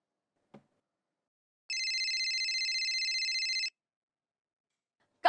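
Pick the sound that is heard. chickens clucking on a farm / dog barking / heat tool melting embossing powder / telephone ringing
telephone ringing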